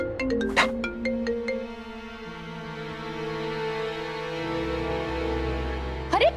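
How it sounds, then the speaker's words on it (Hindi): A phone ringtone plays as a sustained electronic melody over background music, with a few short sharp accents near the start and end. "शायद उसी का फोन होगा।"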